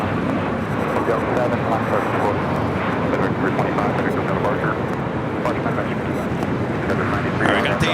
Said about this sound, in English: Have a Learjet 60 taking off.